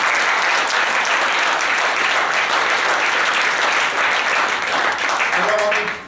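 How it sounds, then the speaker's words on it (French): An audience applauds the set designers at an amateur theatre troupe's stage show, a dense, loud, continuous wash of clapping hands that holds steady for about six seconds before trailing off at the end. "Ils ne sont pas là ce soir, mais je pense qu'on peut les applaudir"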